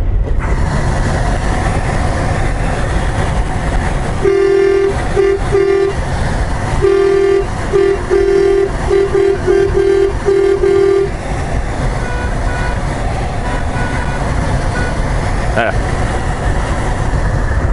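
A car horn honks in a run of short and longer toots inside a vehicle on the road, loud over steady road noise, with a voice talking nearby.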